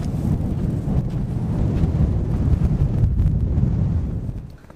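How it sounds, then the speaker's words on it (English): Strong wind buffets the microphone in a steady low roar at Paracas National Reserve, Peru, dropping off at the very end. "it's still pretty windy"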